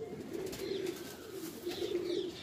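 Several Punjabi pigeons coo in a low, throaty rolling pattern, repeated bursts close by with a few faint chirps in the background and no talk.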